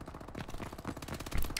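ASM1 submachine gun with extended magazine firing in Call of Duty: Advanced Warfare, a rapid continuous stream of close automatic shots throughout, mixed with game effects.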